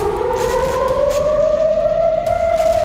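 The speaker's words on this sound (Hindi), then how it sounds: "तेल अवीव और दूसरे इलाकों में लगातार सायरन बज रहे हैं।" An air raid siren wails over Tel Aviv, a loud sustained rising tone that slowly climbs in pitch, steady and penetrating with faint background noise.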